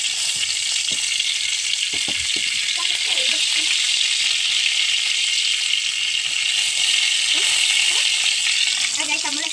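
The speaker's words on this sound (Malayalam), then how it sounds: "എണ്ണ ഇട്ടിട്ട് കടുകിടാം." Mustard seeds fry in hot oil for rambutan pickle, giving a bright, dense, steady sizzle throughout, with scattered crackles and faint clinks underneath.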